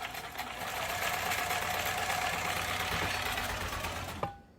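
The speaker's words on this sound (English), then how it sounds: "learned about this old sewing machine from Montgomery Ward" An old Montgomery Ward sewing machine runs steadily with a dense, whirring mechanical buzz, then stops abruptly near the end with a small clunk.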